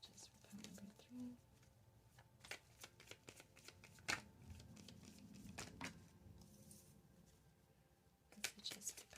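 A deck of tarot cards is shuffled up close in a quiet room, giving soft riffling and flicking bursts with scattered taps and light rustles, and faint whispering in between.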